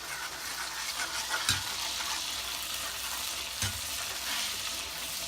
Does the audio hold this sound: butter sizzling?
yes